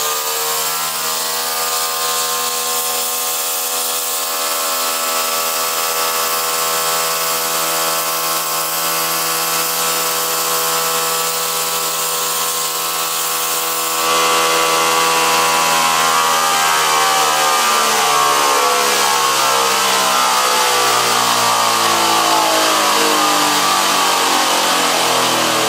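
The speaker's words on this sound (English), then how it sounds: "Full speed on the treadmill motor." A 2 x 42 belt grinder driven by a converted treadmill motor runs at full speed, a loud, steady, close mechanical whine with rising harmonic pitch that jumps louder partway through. Nobody speaks.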